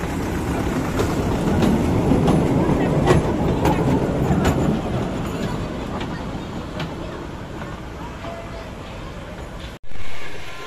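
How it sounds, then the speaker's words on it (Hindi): A toy train rolls through a water park in Durgapur, a steady rumbling clatter of wheels on track that holds for most of the stretch, with faint crowd voices and park ambience behind it before a sudden jolt near the end. "ये देखिए दोस्तों टॉय ट्रेन"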